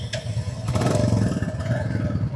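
Royal Enfield motorcycle engine thumping with a low, pulsing rumble during a club ride, close and fairly loud, with some clatter and rising revs over a couple of seconds.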